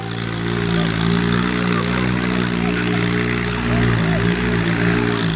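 A homemade model of a Swaraj 855 tractor performing a stunt at a rural fair, its engine giving a steady, loud buzzing drone with layered harmonics and slight revving changes throughout, and no clear speech over it.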